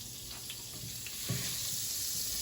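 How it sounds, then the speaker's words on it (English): Butter melts in a pan with a soft, steady sizzle and crackle that gets a little louder and denser partway through, with no talking. "I'm gonna call it 2 pats of butter. We're gonna let that melt down a little bit"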